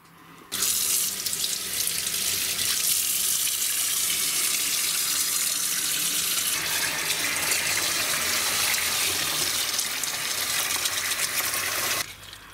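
Tap water gushes steadily into a sink or container as an orchid is set in warm water to soak its roots, a close, continuous splashing flow that starts abruptly and cuts off near the end.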